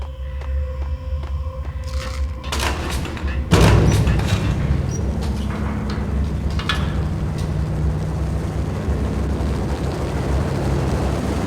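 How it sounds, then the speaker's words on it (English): An unmarked helicopter in the video game Max Payne drones steadily with a loud rotor and engine roar, joined by a heavy thump and crashing impacts partway through, no voices. "The unmarked chopper was Horn's pet guardian, inhuman and flawless."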